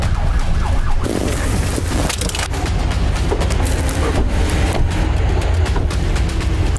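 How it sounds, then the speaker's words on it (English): A fire truck siren passes by overhead, heard loud and harsh from an underground spot, mixed with a broad roar of traffic and street noise. "That's just the fire truck passing by."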